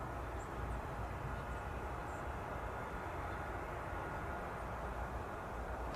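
Medevac aircraft taxiing at Kelowna airport, a steady distant engine rumble and broadband roar holding evenly throughout, with no clear talk over it.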